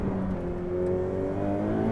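A Ferrari 488 Pista's V8 engine pulls hard under acceleration, a loud, smooth rising drone with a steadily climbing pitch, heard from inside the car with no talking.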